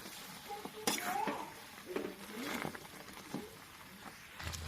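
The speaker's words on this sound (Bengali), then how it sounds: "তো এটা ভালো করে গুড়ে ফুটাতে হবে।" Jujube pickle simmering in jaggery in a pot, heard as soft bubbling with scraping, stirring clinks and spoon knocks against the pan, close and moderately quiet, with no talking.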